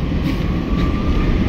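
A metro train passing near Marine Lines in Mumbai gives a steady, loud rumbling roar with a faint whine that holds evenly through the short moment, with no talk.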